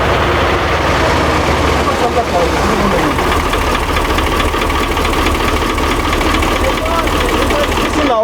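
A MAN KAT 6x6 military truck's diesel engine runs at a steady, loud idle, with a continuous low rumble and a knocking texture throughout, close by, while people talk over it.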